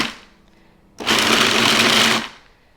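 A food processor pulses banana cookie dough in a single loud grinding burst of about a second, starting abruptly and cutting off after a short quiet pause.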